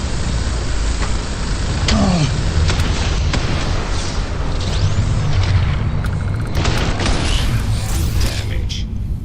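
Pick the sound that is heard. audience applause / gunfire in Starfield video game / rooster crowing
gunfire in Starfield video game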